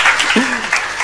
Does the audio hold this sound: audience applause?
yes